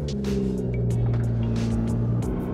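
A manual Toyota Supra engine runs close by with a steady, low, even drone that holds without a break for a couple of seconds, and no voices are heard.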